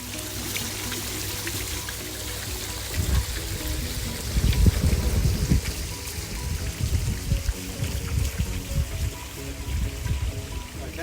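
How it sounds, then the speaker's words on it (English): Garden water fountain spilling over stacked slate beside a fire feature, a soft continuous trickle and pour with splashy bursts, close and moderately quiet. "So you still see the water still flowing as normal. You can see it rippling over this stacked slate."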